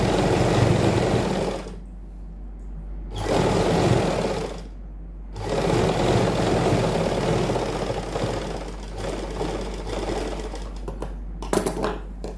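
A sewing machine stitches the side seam of a suit in close, loud runs of rapid mechanical chatter, stopping twice for short pauses before starting up again.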